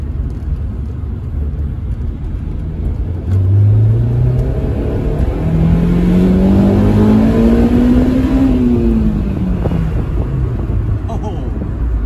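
A Honda S2000 drives through a short tunnel, its exhaust droning and rising as the engine revs up, then easing off, echoing loudly and close with no talk over it.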